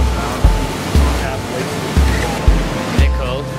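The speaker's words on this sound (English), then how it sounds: "Waterfall we're gonna be jumping off of." A close, constant roar of rushing water from a waterfall, broken by a few evenly spaced low thumps.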